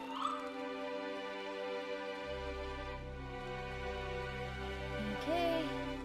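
A fox in the video game Spirit of the North gives a few soft, high yips and whimpering barks over a sustained musical drone.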